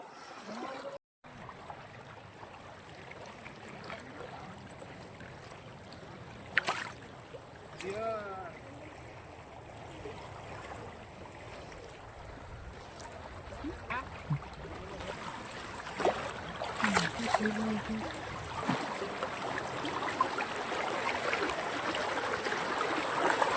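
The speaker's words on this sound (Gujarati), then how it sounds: "બધા ત્યારે પાણીમાંથી નીકળી રહ્યા છે" Water sloshes and splashes as people wade through a river over a washed-out road, with scattered voices and occasional sharp sounds over a steady outdoor rush.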